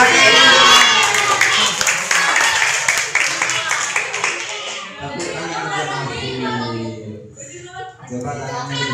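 Schoolchildren clapping their hands together in a classroom, a brisk burst of many claps with shouts at the start, then fading into a mix of children's voices and talking.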